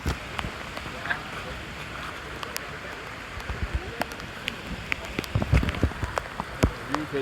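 Footsteps wading through stream water on a jungle trek toward Chimar Waterfall, irregular close splashes and sloshes over a constant rushing-water wash, growing heavier toward the end.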